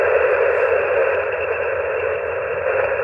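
An amateur radio receiver hisses with steady band static during a parks-on-the-air session, a constant, fairly loud noise with no voice coming through.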